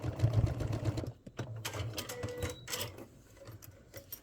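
A sewing machine top-stitches along a zipper in short bursts, a close, moderately quiet mechanical whir and clatter that stops and starts with small handling noises between runs.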